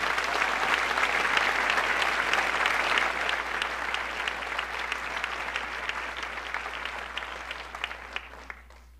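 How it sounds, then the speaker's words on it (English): Graduating school community at a closing-day ceremony applauds at length, a broad, even roar of clapping from a large crowd that gradually tapers off at the close. "Give yourselves a round of applause"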